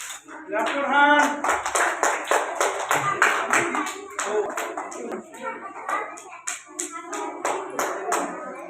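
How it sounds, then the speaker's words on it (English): Audience applause at a school prize distribution, a steady run of many hands clapping close by for several seconds, fading in strength toward the end, with a voice briefly heard over it at the start. "Please clap your hand."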